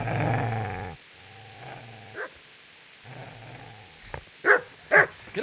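In the medieval game Kingdom Come: Deliverance, a dog growls loudly and continuously at first. Quieter rumbling follows, then two sharp, close barks near the end.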